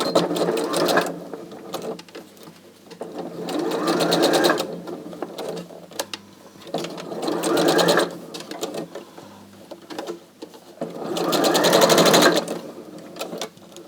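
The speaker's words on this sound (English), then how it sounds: "I'm going to sew all the way around" A sewing machine stitches jacket pieces right sides together, running in four steady bursts with short pauses between them, close and clear with no talking.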